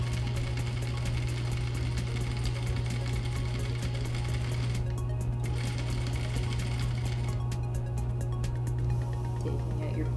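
A sewing machine stitches a patch pocket with a fast, even, continuous mechanical whir and clatter, loud and close, running steadily throughout without talk.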